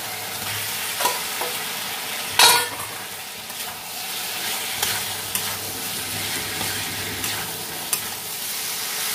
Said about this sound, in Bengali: এটাকে দিয়ে এইভাবে একটু কষাবো